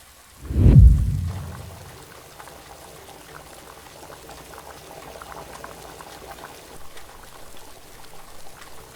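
Heavy rain falling outside a window, a steady soft patter at moderate level throughout, following a brief louder low thump at the start, with no voices.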